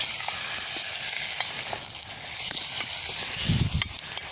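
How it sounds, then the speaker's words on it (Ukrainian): Chopped meat frying in a pot over a campfire in the woods, a continuous close hiss and sizzle with scattered faint crackles and a brief stir near the end, no talk. "нарубав такими шматочками місце і відправляємо його жаритись"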